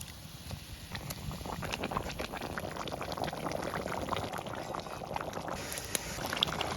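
Fish curry sauce for a red carp bhuna boiling in a pan, a close, continuous dense bubbling and popping that stays even throughout, with no talk.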